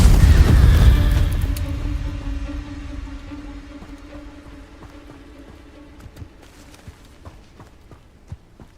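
Hogwarts Legacy's Incendio fire spell erupts in a loud, booming burst of flame that slowly dies away into a long fading rumble, leaving faint scattered clicks and ticks behind.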